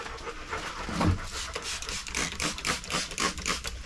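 Rapid, rhythmic dog panting, close by and steady throughout, with soft breathy huffs and no talking.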